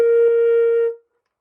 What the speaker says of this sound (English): this is just a regular flute.